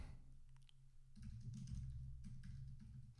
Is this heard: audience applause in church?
no